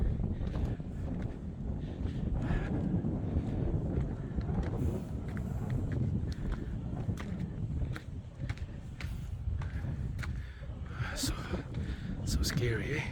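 Strong, cold wind buffets the microphone on the Coronet Peak hiking trail in New Zealand, a constant loud low rumble and roar with gusty surges throughout, while a person speaks and breathes heavily.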